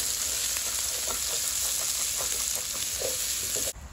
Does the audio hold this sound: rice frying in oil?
yes